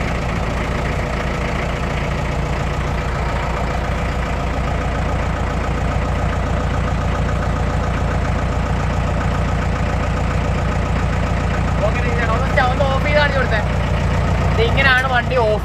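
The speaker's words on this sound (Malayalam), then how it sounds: "അടിപൊളി പഴയ ആ ഒരു എഞ്ചിന്റെ സൗണ്ട്," A 1965 Willys jeep engine idles in a steady, low, loud rumble with an even mechanical knock, running close throughout while someone speaks now and then over it.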